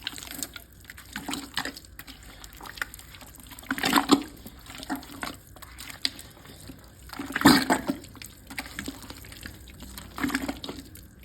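Hands churn reclaimed ceramic clay in a bucket filled with water, giving irregular wet sloshing and gurgling with a few louder splashing surges, close by and with no talking.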